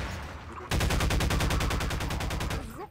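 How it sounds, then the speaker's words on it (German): A pulse rifle in Half-Life 2: Episode One fires a fast, loud, continuous burst of evenly spaced shots for about two seconds, then stops abruptly. "Nehmen wir mal das Impulsgewehr,"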